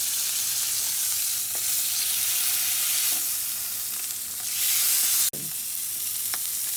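Bacon sizzling on a grill, a loud continuous crackling hiss with faint pops and a brief sharp click near the end, alone without talk.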